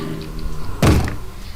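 Wooden door opening in the video game Minecraft during a survival session, a single short thunk heard once at moderate loudness over a quiet background.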